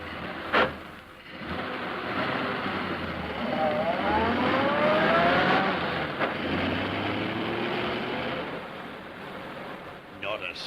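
A car engine starts and pulls away, a rising whine climbing in pitch as it gathers speed under a continuous hum, with a sharp knock at the start and thumps near the end.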